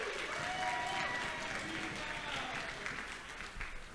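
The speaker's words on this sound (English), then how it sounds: "So please give them a round of applause." Wedding guests at a reception applaud the staff, a steady wash of clapping from a full room that holds for several seconds, with some voices and tonal sounds mixed in underneath.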